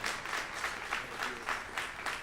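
Church congregation applauding a family being welcomed: continuous crowd clapping at moderate volume, with a faint pulsing swell, no talk over it.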